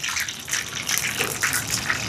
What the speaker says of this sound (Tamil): கொஞ்சம் தண்ணி விட்டு ஒரு பேஸ்ட் மாதிரி கரைச்செடுப்பேன்